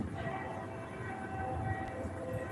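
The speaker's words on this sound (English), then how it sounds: "I hear another train coming." A train rumbles past at a distance outdoors near a bridge, a steady low drone with a faint horn-like tone rising over it, continuous and moderately quiet with no talking.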